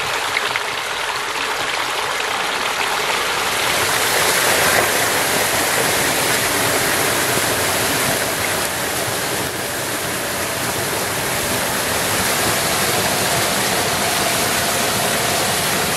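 Water blasts out of a drained manifold on a hydro-electric pipe in a steady, loud roaring rush that holds at full force, close and continuous, with no voices over it.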